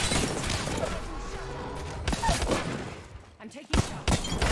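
Gunfire from the Apex Legends video game rattles in dense bursts and single sharp cracks, loud and close, with a brief lull before further shots, mixed with game effects and players talking over it.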